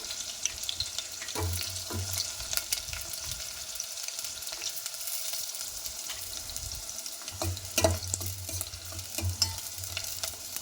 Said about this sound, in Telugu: ఆనియన్ లైట్గా ఫ్రై కావాలండి ఆనియన్ ఫ్రై అయిపోయాయి